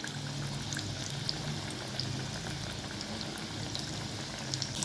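Mumbai-style vada pav vadas slipped one by one into hot oil bubble and crackle steadily in a deep fry, a faint, continuous bubbling with tiny pops.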